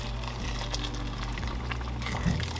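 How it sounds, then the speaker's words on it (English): Water pours steadily into a cooking pot of rice, a continuous splashing, gurgling flow close by with no talking. "So add more water."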